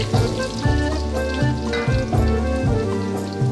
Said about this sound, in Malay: Dan juga Nina tumis dulu bawang putih dan juga halia dulu.